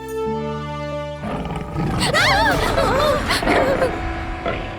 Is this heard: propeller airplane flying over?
no